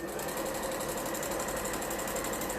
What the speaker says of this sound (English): So don't give your sewing machine a chance to eat the fabric, and just stitch forward.